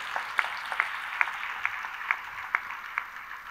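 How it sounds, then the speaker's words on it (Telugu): Church congregation clapping together at a steady rhythm, about seven or eight sharp claps spaced roughly every half second, moderately distant with a soft room wash behind them. "చప్పట్లు కొట్టి దేవుని మహిమపరచు"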